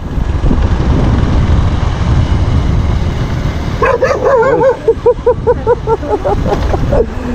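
A dog barks repeatedly in quick yapping bursts over a loud, steady engine or wind rumble from a Rouser 180 motorcycle in Itogon, Benguet, the barks close and sharp.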